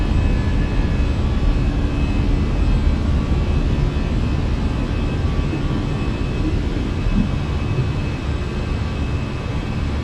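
Fenix Airbus A319 jet engines in a flight simulator game, a steady, broadband roar that holds constant and loud throughout the climb after takeoff, with no speech.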